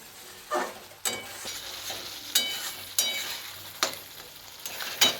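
Snail curry, village style, frying in raw mustard oil in a pan, with several sharp scraping stirs at irregular intervals over a low steady sizzle, close and fairly quiet.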